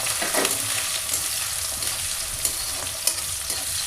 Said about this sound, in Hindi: तेल हो गया है और प्याज को मैं डाल दे रही हूँ।